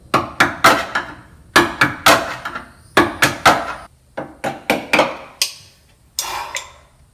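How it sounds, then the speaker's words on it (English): Hand tool chipping old mat material off a car's firewall, close sharp knocks in quick irregular clusters of three or four, with short pauses between bursts. "I'm gonna try to chip that up and we'll sand that away too"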